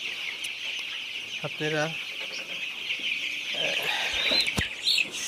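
Sixteen-day-old farm chickens cluck and cheep near the microphone over a constant high-pitched chirping din, with one distinct clucking call early on and a brief word spoken.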